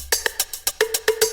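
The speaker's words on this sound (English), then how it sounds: "in the background over here, I have a synthy hi-hat loop." A quick loop of bright, metallic synthetic hits taps out a steady, fast rhythm, with a short tonal ring sustaining under the later strikes.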